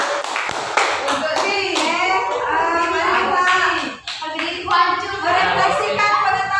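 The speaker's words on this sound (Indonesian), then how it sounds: "Tepuk tangan." Classroom clapping from students during a lesson, brisk hand claps mixed with children's voices and chatter that carry on throughout the short stretch.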